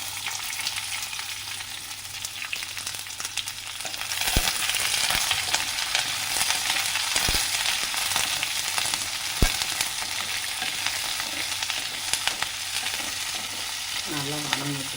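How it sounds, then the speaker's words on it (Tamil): Sliced large onions fry in hot oil for tomato chutney, a constant crackling sizzle that grows louder midway, broken by sharp scraping knocks of a spoon stirring the pan. "நல்லா வதங்கிட்டு வெங்காயம்"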